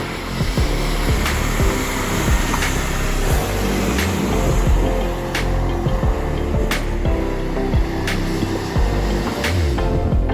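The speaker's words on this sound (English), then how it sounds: "we're driving the Jaguar onto the beach" A Jaguar car drives onto a beach on the Oregon coast, producing a steady, loud rumble of engine and tires over sand, with scattered clicks and knocks throughout and no talking.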